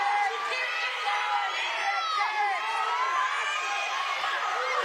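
Spectators in the stands at a girls' state high school wrestling championship, Class A and B, cheer and shout in a steady, continuous roar, with overlapping voices and whoops filling the arena.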